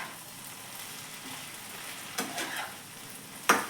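Fenugreek leaves stirred into a potato curry in a pan, a soft steady sizzle with a couple of louder scraping stirs near the end, no talking.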